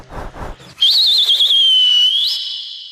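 At a cricket player auction event, a brief voice is followed by one loud, shrill whistle that warbles and holds for about a second and a half, then jumps higher before fading.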